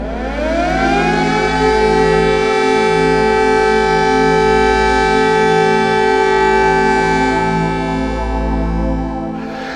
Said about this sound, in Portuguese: No final da manhã, as sirenes começaram-se a ouvir.